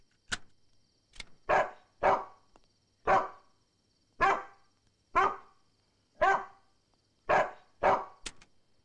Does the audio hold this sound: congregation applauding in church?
no